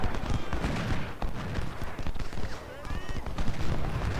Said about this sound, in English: 10-pounders still open up on Murphy's artillery